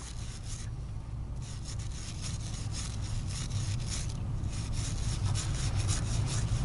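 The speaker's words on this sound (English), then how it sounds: "I'm going to take my wire brush and start to scrub and break up any fouling and anti-seize that I may have on the regulator itself" A wire brush scrubs fouling and anti-seize off the regulator of a Komrad rifle suppressor, a close rapid back-and-forth rasping that keeps an even rhythm throughout, with no voices.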